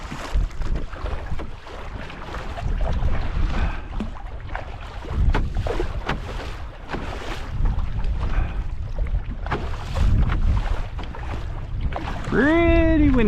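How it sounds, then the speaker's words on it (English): Strong wind on Little Tupper Lake buffets the microphone in gusty, rumbling bursts throughout, with a brief voice-like sound near the end. "Pretty windy today."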